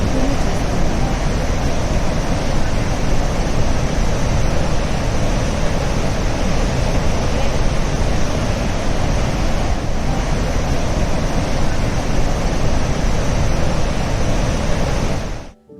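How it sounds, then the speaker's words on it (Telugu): The Saraswati river near its source roars as it crashes over boulders, a loud, constant, dense rush of water that continues unbroken until it cuts off at the end. "కొండరాళ్లని బద్దలు కొట్టుకుంటూ విపరీతమైన హోరుతో ప్రవహిస్తున్న సరస్వతీ నది"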